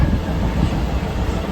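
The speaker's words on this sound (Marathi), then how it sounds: "ट्रेन भेटले, ट्रेनमध्ये बसलोय." Inside a moving passenger train in Mumbai: a loud, steady low rumble of wheels on track fills the carriage, continuous and close with no voices.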